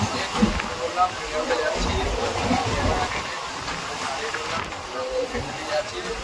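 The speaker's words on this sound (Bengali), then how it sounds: "এই সবে ট্রেন ঢুকছে" A train rumbles and hisses into a station on a rainy day, a steady broad roar with a few clanks, while people talk nearby.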